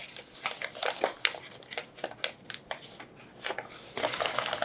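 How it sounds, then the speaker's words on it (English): Paper folded and creased while shaping a 3D origami heart: close, irregular crinkling and crisp snapping taps over several seconds, busy and dry. "you can fold onto that guide"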